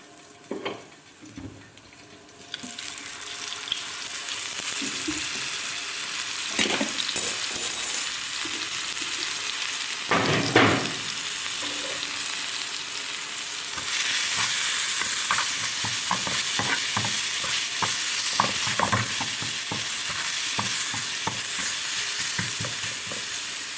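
Sardines and eggplant frying in a pan give a loud, steady sizzle that starts abruptly after a quiet opening, with occasional stirring scrapes and a brief surge in the hiss partway through, no voices.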